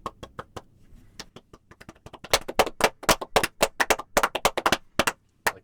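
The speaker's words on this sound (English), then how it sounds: "clap into the mic" Hands clap close to a microphone in an irregular run of sharp, dry claps, starting soft and sparse, then growing louder and quicker in dense bursts.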